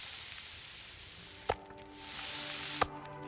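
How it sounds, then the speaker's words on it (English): Meat cooks over a campfire in the survival game The Long Dark, with a steady hiss of sizzling crackle broken by two sharp, brief chopping clicks spaced apart, and no voices. "Let's go ahead and cook the smaller of the two first."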